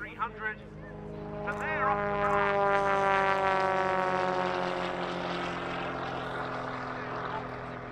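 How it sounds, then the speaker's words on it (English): A full-size Extra 300 aerobatic propeller plane rolls for takeoff at an air show, its engine rising from a couple of brief blips into a loud, buzzing propeller drone that holds steady, then slowly fades and lowers in pitch. "And now, rolling for takeoff, is Chris Burkett in his full-size Extra"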